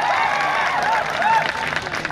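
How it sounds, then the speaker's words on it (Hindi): Audience at a college fresher's party applauding, a dense burst of clapping throughout with a voice audible over it. "एक बार जोरदार तालियां बजा दीजिए आशीष जी के लिए।"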